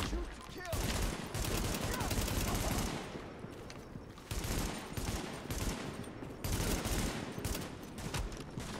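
Bursts of gunfire from Tom Clancy's The Division, repeated volleys and rattling fire across the whole span, loud and dense with a few short gaps, with a voice talking faintly beneath.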